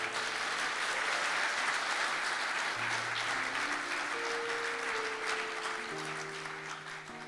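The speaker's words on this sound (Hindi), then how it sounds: "ईमान रखते हैं तो खुदावंद यीशु के लिए जोरदार तालियां बजाएं।" A church congregation applauds loudly and steadily, a dense wash of clapping filling the whole stretch while sustained organ or keyboard chords ring underneath, easing slightly toward the end.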